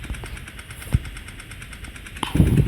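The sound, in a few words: new motorbike engine idling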